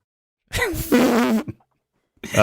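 A man imitates a fart with his voice, producing a wet, buzzing raspberry that slides in pitch for about a second, followed by a brief spluttering noise, and then speech starts again.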